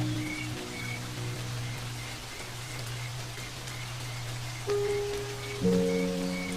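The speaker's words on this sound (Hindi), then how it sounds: "लेकिन ये बेमौसमी बारिश बंद होने का नाम ही नहीं ले रही।" Steady unseasonal rain falls across the Serengeti savanna, a continuous hiss of drops on the ground that holds even throughout, with low droning tones and a few brief calls rising near the end.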